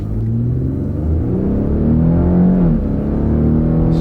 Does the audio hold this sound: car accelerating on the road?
yes